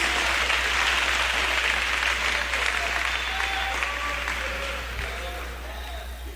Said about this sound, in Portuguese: as mãos desocupadas, de aplausos para Jesus